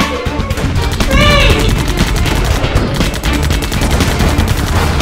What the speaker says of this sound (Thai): แล้วก็เกิดเหตุยิงปะทะกันระหว่างโจรกับตำรวจ